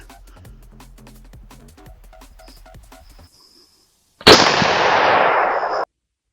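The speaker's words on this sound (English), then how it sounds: "I'm gonna shoot." A budget predator hunting rifle fires one sharp, loud shot after a few seconds of quiet clicking, and the blast rings out and then cuts off abruptly.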